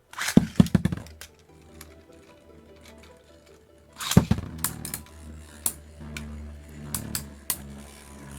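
A Beyblade snaps off its launcher at a semi-finals tournament: a sharp burst of ripping and rattling near the start, another strong burst midway, then scattered clicks and spinning clatter in the stadium.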